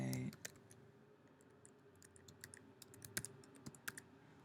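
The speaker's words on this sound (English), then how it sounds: "It's hard to type a password and continue to talk at the same time." A computer keyboard clicks as a password is typed, with scattered irregular keystrokes, faint and near, over a low background hum.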